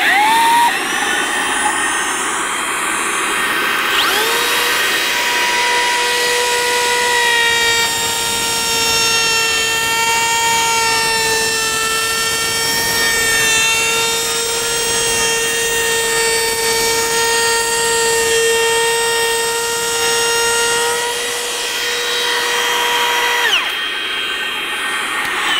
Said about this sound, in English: I'm gonna try this little cordless vacuum right here. We'll see how good it collects dust.